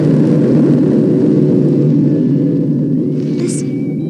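A spacecraft lifting off gives a loud, steady low rumble that fills the whole clip, with a brief high whine near the end.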